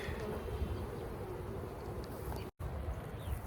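Honeybees buzz around a hive in a soybean field during an inspection, a dense, steady drone close by and fairly loud, broken by a single abrupt cut with no speech.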